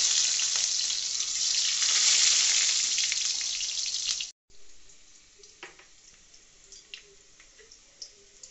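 Potato pieces fry in hot oil with salt and turmeric for a Bengali-style chicken curry. A loud, dense sizzle runs for about four seconds, then cuts off, leaving quieter crackles and a few sharp ticks.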